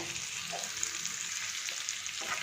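Finely chopped onion frying in a pan for gravy gives a soft, continuous sizzle with faint stirring, quiet and close, with no voices.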